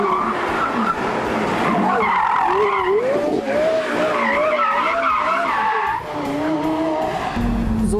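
A Porsche Carrera GT's loud, high-revving engine roars continuously, its pitch climbing and falling through gear changes, close and dominant throughout.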